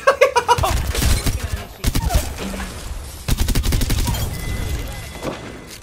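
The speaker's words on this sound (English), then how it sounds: "Getting shot at." Video game gunfire crackles in rapid bursts of automatic shots, loud and close, mixed with occasional impacts while a player speaks intermittently over the action.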